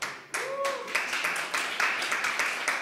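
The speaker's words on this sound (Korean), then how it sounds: "모두 큰 박수 부탁드립니다" A burst of conference audience applause starts abruptly and continues with crisp, overlapping claps, preceded by a brief tonal electronic chirp.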